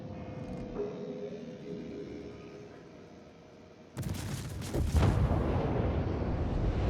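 Naval artillery firing in the World of Warships game: a low ambient rumble gives way to a sudden heavy boom, then a second, louder blast and a sustained roaring rumble, with no talking.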